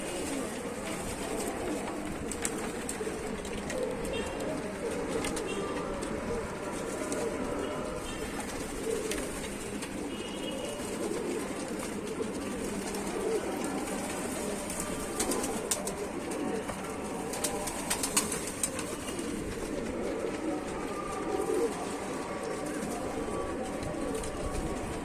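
Pigeons kept in a loft by a hobbyist in Tanta coo softly and repeatedly at close range, their murmuring calls layered over quiet background sounds with occasional rustles and flutters.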